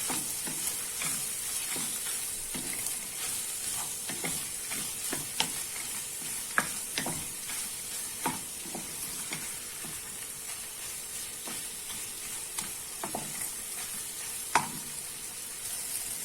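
Tomato paste sizzles as it is stir-fried in a pan, a continuous soft frying hiss broken by regular scrapes and taps of a spoon stirring, close up with no talking.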